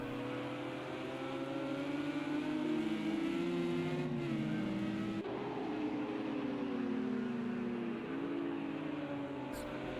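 A Lamborghini race car drives on a track with a steady engine drone and rising and falling revs, heard from a distance, continuous with no talk.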